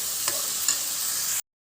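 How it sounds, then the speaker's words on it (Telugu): Masala frying in oil for a Telugu-style fish curry is stirred in a pan, a soft steady sizzle with a few light scraping strokes before it cuts to silence. "ఇదిగోండి, మసాలా వేసిన తర్వాత ఇట్లా మనం మిక్స్ చేస్తూ ఉండాలి."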